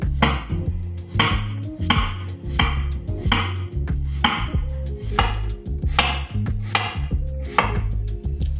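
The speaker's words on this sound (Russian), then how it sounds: "Беру 4 очищенных заранее картофелины средней величины общим весом 400 грамм и нарезаю их тонкими кружками" A knife chops steadily on a cutting board, slicing potatoes into thin rounds with quick, regular strokes close up and light clatter between them.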